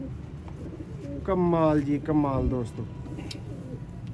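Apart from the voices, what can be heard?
Sialkoti pigeons cooing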